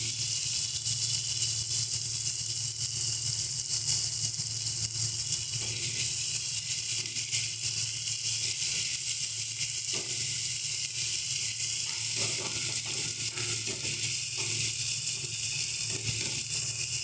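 Spices fry in a pan for a curry of small morola fish with raw tomato, making a continuous, even sizzling hiss, with a few faint stirring scrapes toward the end.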